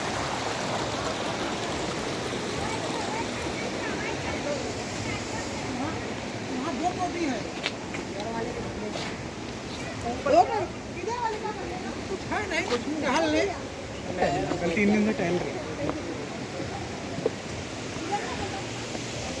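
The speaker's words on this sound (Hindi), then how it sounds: "ये पानी यहाँ से बहता हुआ नीचे की ओर जा रहा है" Water flows steadily and drips inside a cave at Sahastradhara near Dehradun, a continuous close rushing trickle with scattered drops, while someone talks over it.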